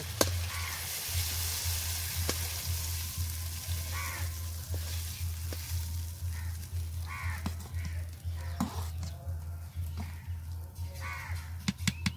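Spices hit a hot pan for vegetable khichuri made with winter vegetables, giving a steady, moderate sizzle, while crows caw repeatedly nearby over a low, pulsing hum.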